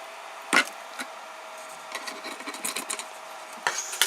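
Homemade shredder driven directly by a wiper motor chewing up poorly printed 3D plastic parts: a constant motor whine, scattered crunching, rasping and cracking bursts, and a few sharp snaps near the start and end.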